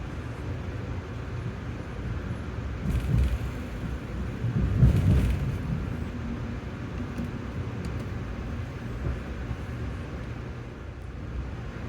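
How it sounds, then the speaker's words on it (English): From inside a Bud Amfleet coach on Amtrak train 164, a low rolling rumble swells into a couple of heavy thumps as the wheels pass over switch tracks, then settles back. "Another distinct sound along this stretch was that of the switch tracks beneath us."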